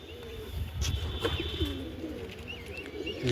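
Pigeons cooing close by, a hen bird among them, with soft repeated throaty coos over a low rumbling background and no talk.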